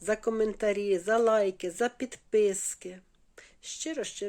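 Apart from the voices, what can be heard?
No everyday noises stand out.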